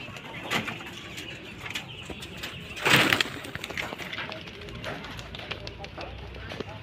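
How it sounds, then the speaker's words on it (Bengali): Pigeons kept by a Bangladeshi hobbyist coo and call in a loose, continuous chorus close by, with a sharper burst of noise around the middle; someone talks over them. "এই যে দেখেন কবুতরগুলা"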